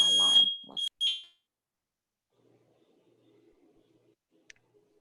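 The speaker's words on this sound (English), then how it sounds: "The smoke alarm I'm hearing over there." A home smoke alarm sounds in a short, loud, high-pitched burst of piercing beeps at the start, then cuts off, leaving near-silence with faint low background noise and one brief click.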